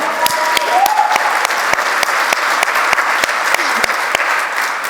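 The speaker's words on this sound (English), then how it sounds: "Please clap for them." A conference audience applauds the National Transfer Student Ambassadors with a steady, loud round of clapping that holds for several seconds, sharp individual claps standing out from the dense wash.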